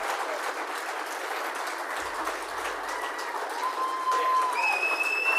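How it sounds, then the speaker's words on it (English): Applause from an awards-night audience at a First Nations awards ceremony, a dense, even clapping wash with faint whistles or cheers rising near the end. "Big round of applause for all of our award winners here tonight."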